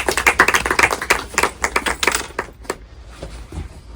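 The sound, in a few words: applause for Professor Armitage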